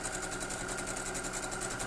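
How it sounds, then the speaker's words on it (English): A sewing machine stitching a quilt block seam runs steadily and close up, with a fast, even mechanical whir and rapid needle rhythm throughout and no talk. "I'm going to sew it from that direction so I can keep control of that seam."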